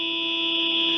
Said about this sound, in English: we got a fire alarm going on here